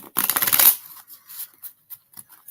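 An old deck of linen-finish playing cards gets a single quick riffle shuffle, a close, crisp burst of fluttering snaps. A few soft clicks of the cards being squared follow in the quiet.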